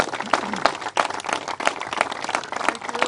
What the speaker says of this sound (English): I want to give her a round of applause for her amazing leadership.